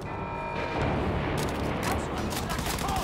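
Rapid pistol fire in the video game Wolfenstein II, a dense burst of close shots and crashing impacts running throughout, loud and continuous with a few sharper cracks near the end.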